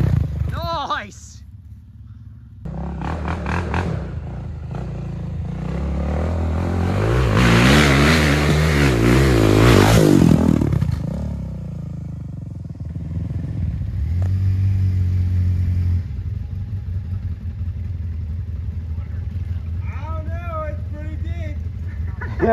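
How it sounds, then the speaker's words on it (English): A four-wheel-drive truck climbs a muddy hill on an off-road outing, its engine revving hard and swelling to a loud peak before easing off, with talk and shouts from onlookers around it. "while all of us guys with four-wheel drives were playing in the mud, Seth was doing some hill climbs"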